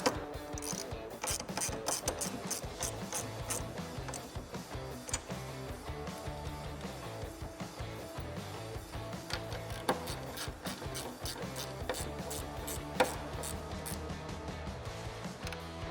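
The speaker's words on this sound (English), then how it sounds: "grab those nuts and tighten them down" Ratcheting clicks as nuts are tightened on a hood strut bracket of a 1999-2004 Ford Mustang, a long steady run of fast mechanical clicks and rasping, close by, with no voices.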